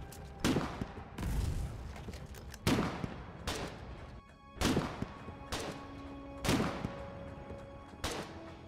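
Bursts of gunfire in the Foxhole war game, about six loud volleys spaced a second or two apart, each crack followed by a rumbling tail, with no talk over them.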